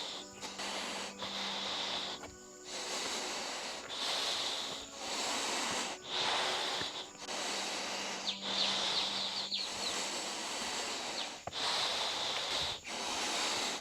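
Heavy, rhythmic breathing through a training mask during an uphill hike, with repeated harsh inhale and exhale bursts close to the microphone and no talking.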